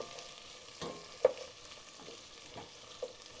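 Fresh tomatoes frying in a pan with other ingredients for an Italian chickpea soup, giving a soft, steady sizzle with a few scraping stirs and light clicks, close and moderately quiet with no talking.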